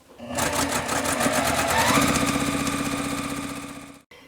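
A sewing machine stitches quilt block seams in one continuous close run, a fast mechanical whirr with a rapid needle rattle. It starts abruptly and stops sharply near the end.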